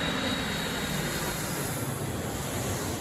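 Engines of the largest US Air Force plane roar in a dense, steady drone with a thin high whine riding on top, loud and unbroken throughout.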